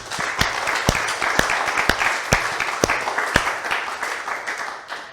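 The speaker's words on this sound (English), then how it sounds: "I think we should give ourselves a round of applause" An audience at a technology showcase event applauds together, a dense, sustained clapping at close range with a few sharp individual claps standing out.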